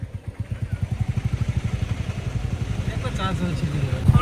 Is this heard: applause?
no